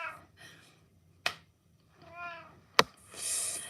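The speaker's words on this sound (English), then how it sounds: "Damn cat." A cat gives a few short meows close by, broken up by two sharp clicks or taps and a brief hiss-like burst near the end, with no one speaking.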